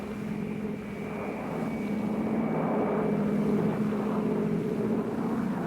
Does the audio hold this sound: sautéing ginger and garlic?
no